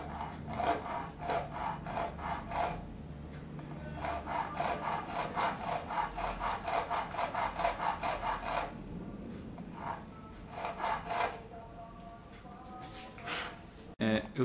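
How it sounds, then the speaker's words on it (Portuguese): A small file rasps back and forth in a guitar nut slot in quick rhythmic strokes, working in bursts with brief pauses, close and moderately quiet, with someone talking at times. "vou mover a corda só para o lado aqui e vou limar um pedaço"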